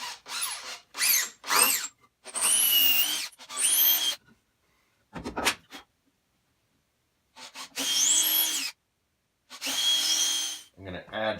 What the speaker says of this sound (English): I need to screw into this frame member here and then simply screw it all together